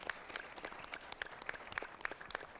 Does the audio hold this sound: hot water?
no